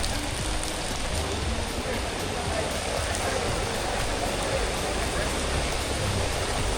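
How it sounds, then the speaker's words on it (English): Rain falls steadily on a trekking trail up Visapur fort near Pune, a dense, even hiss that stays at one level throughout with no voices. "Started raining now."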